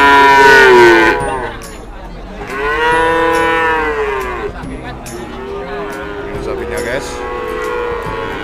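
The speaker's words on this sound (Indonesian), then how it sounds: "Ini sapinya." Cattle at the Wirosari livestock market in Purwodadi low loudly nearby, several drawn-out moos following one another, some overlapping, with market din beneath.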